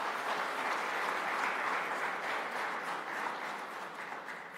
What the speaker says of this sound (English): let us give a big round of applause for all our volunteers